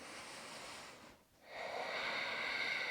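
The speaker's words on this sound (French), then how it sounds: "Encore une grande respiration." During a calming bedtime yoga flow, a slow, deep breath is drawn in, followed by a brief pause and then a long, airy exhale. The breathing is close and soft.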